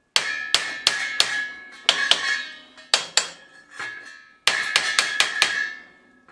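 Sharp metallic hammer strikes on a punch against a bicycle crank arm, driving out a pressed-in bottom bracket, in clusters of quick blows, ringing after each hit, close and loud with short pauses.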